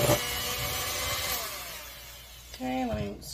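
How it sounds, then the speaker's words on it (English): An old 1970s electric hand mixer mixing a peppermint sugar scrub gives a steady motor whine that drops in pitch and fades as it winds down. A brief voice comes in at the end. "I love my old hand mixer."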